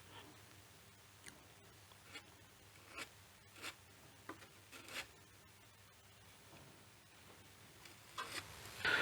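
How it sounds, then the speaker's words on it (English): Hardwood filler dabbed and pressed into a wooden radio case, giving soft, faint scraping and rubbing strokes that repeat irregularly in a quiet room. "I'm just going to put a dab of filler in there."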